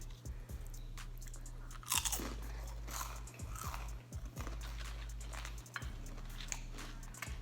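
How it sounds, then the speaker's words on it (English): Loud, close crunching bites and chewing of a homemade college meal, with crisp irregular crunches repeating over a low steady hum. "all right, first bite"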